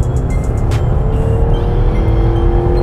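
Car engine running in sport mode with the sport dials on, a 252-horsepower motor giving a steady loud rumble and drone with a rising tone, heard from inside the cabin.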